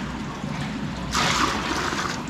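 Hot water from a heated aquarium is poured and drained, a steady liquid trickle that suddenly swells into a louder, splashing rush partway through, close by with no talking.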